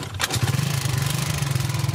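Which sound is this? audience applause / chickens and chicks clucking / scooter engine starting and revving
scooter engine starting and revving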